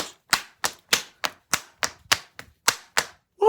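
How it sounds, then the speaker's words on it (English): A man claps his hands rapidly in a church, about ten sharp, close, evenly spaced claps in quick succession, then a voice starts right at the end. "he's doing his rapid clapping up and down with his hand"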